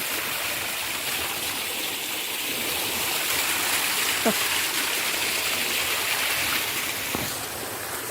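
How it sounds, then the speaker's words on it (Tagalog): A small waterfall pours in a steady broadband rush throughout, a continuous close wash of flowing water with no break. "Meron pang mini waterfalls mga idol."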